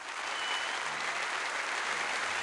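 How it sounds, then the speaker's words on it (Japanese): Steady, dense applause from a crowd at a performance in a visual novel, sustained and even throughout with no voices over it. "We all heard a clap."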